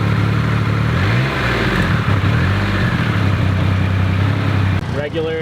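A 2,500cc, 178 horsepower car engine runs at a loud, steady idle with a low throbbing rumble, then cuts to near quiet at the very end; a person speaks in the background.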